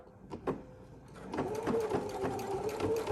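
A sewing machine stitches close to the edge of a quilted box bag, a few scattered thumps giving way to a quieter, fairly steady run of stitching in the second half, nearby with no speech.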